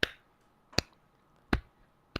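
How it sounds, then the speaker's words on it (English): Four slow, evenly spaced claps, each a single sharp close slap separated by roughly three-quarters of a second of near silence. "This is me slow clapping"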